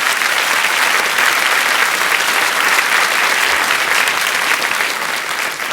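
Loud, sustained studio audience applause on a French television show, a dense even wash of clapping greeting a father and son as they enter.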